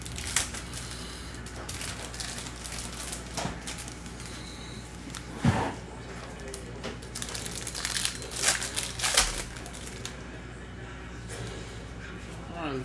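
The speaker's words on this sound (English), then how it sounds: "Rip this pack really quick." A 2022 Capstone MLB baseball card pack wrapper being torn open, heard as crackly crinkling and ripping foil close up for several seconds, with a steady hum in the background.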